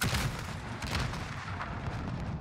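Weapon fire from a French shooting game, a continuous dense barrage of booming shots and crackle filling the whole span, loud and steady with no clear gaps.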